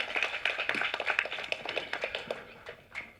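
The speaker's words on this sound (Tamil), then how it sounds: "ஒரு பெரிய கைத்தட்டல் கொடுக்கணும்." Scattered hand clapping from an audience at a film audio launch, uneven and moderately loud, fading slightly toward the end over about three seconds.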